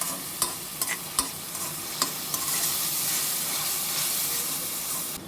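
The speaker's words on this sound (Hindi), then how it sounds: "इसको भी हम 20 से 30 सेकंड तक फ्राई करेंगे" Cabbage and potatoes frying in a pan for a home-style sabzi, giving a steady close sizzle with a few sharp clinks and scrapes of stirring early on, then continuous hiss.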